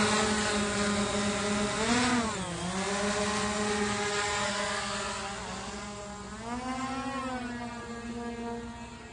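A steady whirring rotor drone with rising and falling pitch as it lifts off and maneuvers, continuous and fairly close.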